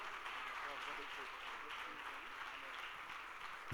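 Faint, steady applause from a crowd at a church worship service, a continuous wash of clapping heard at a distance.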